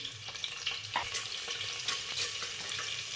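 Eggs sizzling and frying in a pan for egg biryani, a steady close crackle with occasional stirring scrapes and no talk.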